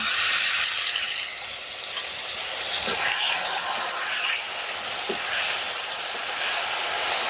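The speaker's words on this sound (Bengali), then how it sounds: "এবার আমি জিরে লঙ্কা বাটাটা দিয়ে দিচ্ছি।" Cumin and chili paste hits hot oil in a pan with green mango, giving a loud continuous sizzle and hiss up close, swelling briefly twice as the mixture is stirred.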